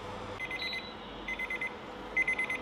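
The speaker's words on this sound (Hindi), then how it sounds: "टाइमर तो हो गया है" A kitchen timer goes off while instant noodles cook, sounding three bursts of rapid high electronic beeps separated by short pauses, clear and close over faint room noise.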